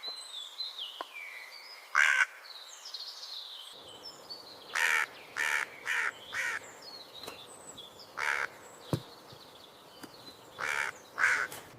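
A crow caws roughly ten times in short, harsh bursts, some single and some in quick runs, spread unevenly across a quiet outdoor background.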